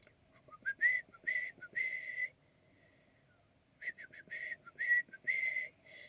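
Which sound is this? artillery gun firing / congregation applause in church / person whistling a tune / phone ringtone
person whistling a tune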